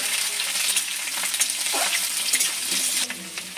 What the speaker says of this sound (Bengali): আলু এটা হচ্ছে আগে থেকে ভেজে নিচ্ছি একটু